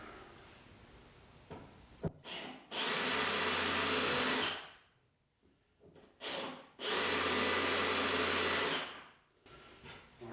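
Power drill boring pilot holes through spot welds in a car body panel in a workshop: two sustained, loud drilling bursts of several seconds each, separated by brief pauses and short starts.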